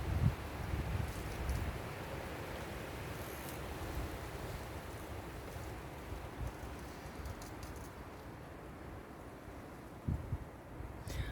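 Strong wind gusting through a young tree, a constant broad rushing and rustling with some buffeting on the microphone, steady and fairly faint.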